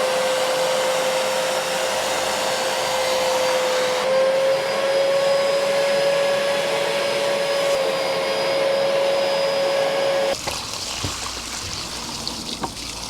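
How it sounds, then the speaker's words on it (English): A vacuum cleaner hums loudly and steadily up close while drawing dust and moisture out of a car's driver's seat, its pitch shifting slightly as it works, then dropping away near the end into softer scraping and rustling. "then a hoover to get all the dust and all the water out and the moisture out"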